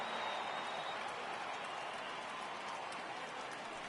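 A baseball stadium crowd at a Rays versus Blue Jays game rises on a full count, a broad, steady wash of cheering and clapping heard from a distance and faint.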